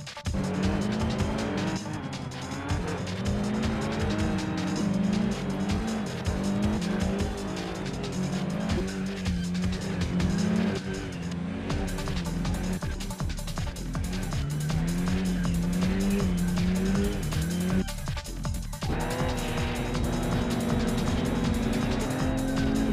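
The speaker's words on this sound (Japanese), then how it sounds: "一発目の加速から一気に前に出る闇天狗と砂人の帝王" Several cars accelerate and race in Shutokou Battle X, a Tokyo expressway street-racing game. The engines whine steadily and loudly throughout with tire squeal mixed in, alone without talk, rising and shifting pitch as the cars pull ahead.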